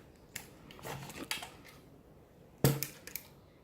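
A We R Memory Keepers label maker is pressed down to cut a label, producing a few sharp plastic clicks and crunches in short bursts, with the loudest snap near the end.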